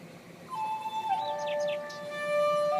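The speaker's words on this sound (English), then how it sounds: "listening to the birds, and the water" Birds chirp and tweet outdoors in short, thin calls, fairly faint over a steady soft background hum.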